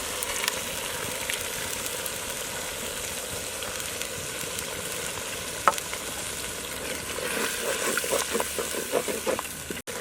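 Ground tomato paste frying with onions in a pan of chicken kulambu curry gives a steady, close sizzle for the whole stretch, with sharper crackles and pops near the end.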